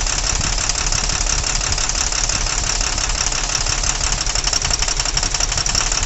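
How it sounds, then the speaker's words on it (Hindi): Diesel engine of a BS4 vehicle running steadily with one fuel injector line opened for testing, giving a continuous loud, rough knocking clatter close by with no talk. "देख लीजिए, इंजन वाइब्रेशन कर रहा है, यानी ये भी अभी काम कर रहा है।"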